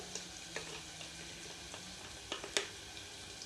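Sambar masala and chili powder frying in a pan make a faint, quiet sizzle, with light scattered scrapes and taps of a spoon stirring.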